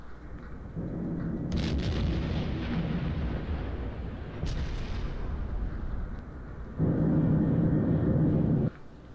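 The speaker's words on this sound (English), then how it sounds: "Final explosion of the fuel." Fuel aboard a torpedoed target ship bursts in heavy, sustained rumbling explosions in the submarine game Silent Hunter 4, a long roaring blast followed by a second loud surge near the end.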